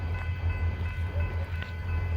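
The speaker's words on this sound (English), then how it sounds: "That was the front of the train." A Kiamichi Railroad freight train rumbles past nearby in Idabel, Oklahoma, a steady heavy low drone of engine and rolling wagons with faint high squeals on top.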